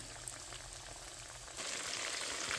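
Catfish fillets fry in hot oil with a steady, dense sizzle that swells louder partway through, continuous and close with no talking.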